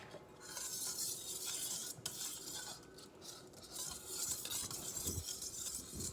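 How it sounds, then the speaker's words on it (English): Eggs being mixed in a bowl for French toast, a busy clatter and scrape of a utensil against the bowl in quick uneven strokes, close and quiet, with no talking. "Now you mix it up."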